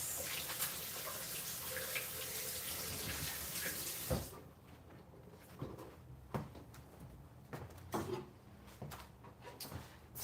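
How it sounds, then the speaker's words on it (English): Water runs from a sink tap for several seconds while hands are washed, then the flow stops, leaving scattered knocks and faint splashes in a quiet kitchen. "I'm going to wash my hands."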